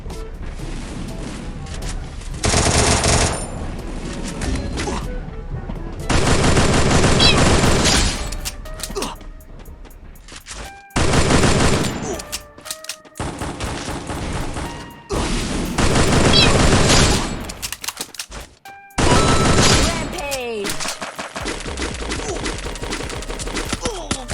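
Gunfire in an online shooter game comes in repeated loud bursts of rapid automatic fire and heavy impacts, separated by short pauses, while players occasionally talk in between.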